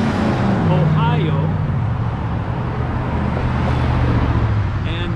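Road traffic passes a cyclist in Mount Vernon, Ohio as a steady roadside roar of cars and larger vehicles, with someone talking over it.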